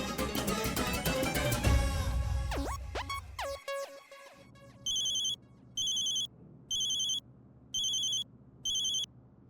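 A ringing phone interrupts a scene, first tones and musical notes, then a repeated electronic ringtone in five evenly spaced short bursts, clear and moderately loud.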